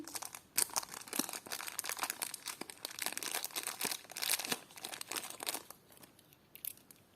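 A plastic packet holding vintage clip-on earrings crinkles and rustles in irregular bursts as it is handled and opened up close, with no talking.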